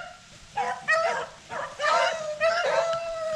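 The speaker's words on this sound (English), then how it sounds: "Here comes the dogs." Several rabbit-hunting dogs bark and yelp excitedly in quick succession, fairly close, with whiny high-pitched cries mixed among the barks.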